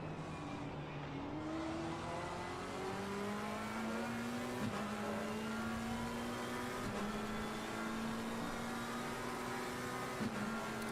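Race car engines roar steadily in Assetto Corsa Competizione during a Nürburgring endurance race, a sustained droning whine whose pitch climbs and shifts slightly as the cars accelerate, loud and continuous with no talk.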